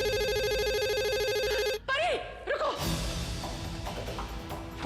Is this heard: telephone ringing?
yes